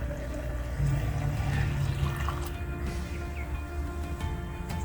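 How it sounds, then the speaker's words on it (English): Water running from a garden drip irrigation system for plants, a soft continuous trickling and splashing that holds steady throughout. "One of the smartest things you can do is install a drip irrigation system."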